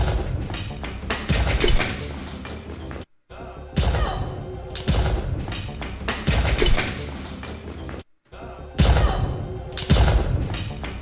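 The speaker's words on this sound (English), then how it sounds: "add a little compressor that'll just make these gunshots just a little more violent" Heavy, punchy gunshot sound effects processed with compression fire in rapid bursts, three volleys separated by brief silences, loud and dense with booming low end.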